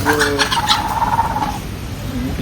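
A chicken clucks and calls close by at a zoo in Johor, a short run of throaty notes over steady outdoor background noise.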